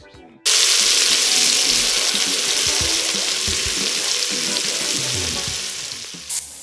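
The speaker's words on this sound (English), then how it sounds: "With the Instant Pot set to saute, I'm browning the outside of the beef just to give it some flavor before I pressure cook it" Beef browning in olive oil in an Instant Pot on saute, a loud steady sizzle starting abruptly after a brief quiet moment, with occasional crackles, close up, no voices.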